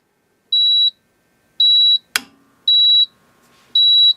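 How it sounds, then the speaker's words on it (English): A NAVAC NRC62i smart charging machine running its self-diagnostic check gives four loud, evenly spaced electronic beeps, with a sharp click between the second and third. "When I turn on the machine, you'll hear a series of 7 beeps"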